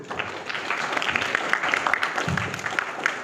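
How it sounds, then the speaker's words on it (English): Audience applause at a policy conclave talk, with dense, lively clapping from a crowd indoors that holds steady throughout. "Let's have a round of applause for this."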